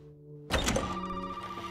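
An old telephone rings in Resident Evil 7, entering with a sudden loud burst after a quiet hum and then sustaining a steady ringing tone with bright overtones until the end.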